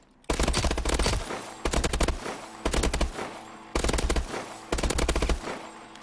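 Bursts of automatic gunfire on the firing range in Call of Duty: Advanced Warfare, with five loud, rapid strings of shots separated by short pauses and no talking.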